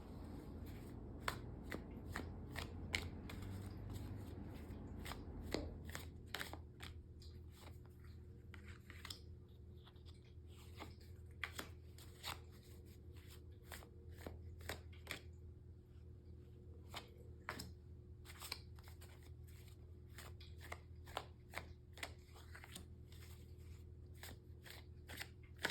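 Tarot cards are shuffled by hand up close, a long run of crisp riffling snaps and soft slides in irregular bursts over a quiet low hum, with a heavier rustle at the start.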